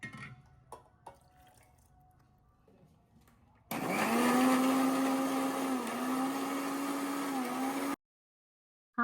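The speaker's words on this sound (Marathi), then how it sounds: "हे सगळं मिक्सरमध्ये टाकायचं आणि प्रॉपर ग्राइंड करून घ्यायचं" A mixer grinder whirs loudly as it blends soaked dates, cashews, almonds and seeds with milk, starting abruptly after quiet kitchen sounds and running steadily for about four seconds before stopping.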